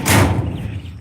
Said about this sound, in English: Open this drawer now.